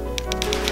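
A mechanical typewriter tapped in a quick run of about five sharp key strikes, close and clear over a low steady hum.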